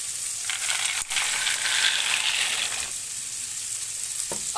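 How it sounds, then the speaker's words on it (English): Pasta dropped into a pan of two liters of boiling water, giving a close, steady bubbling hiss with a brief clatter at the start and a faint knock near the end. "I add the pasta."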